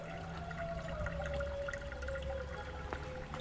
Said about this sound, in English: it's just draining right now